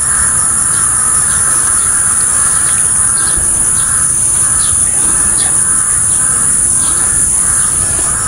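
Harsh caws from several crows repeat at scattered intervals over a constant loud outdoor roar, with no talking.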